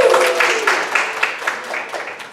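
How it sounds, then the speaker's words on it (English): A school audience claps at a Battle of the Books final to welcome a visiting team, the applause loud at first and then tapering off, with claps standing out close by. "Can we give them a round of applause?"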